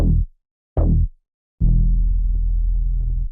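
Deep bass tones: two short throbbing hits with gaps between them, then a longer sustained low note layered with a second bass line on top.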